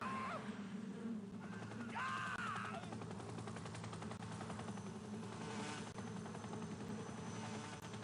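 Hornets buzzing in the stealth video game Metal Gear Solid 3, a dense, steady insect drone filling the whole stretch with constant loud texture and a few brief tonal sweeps overhead.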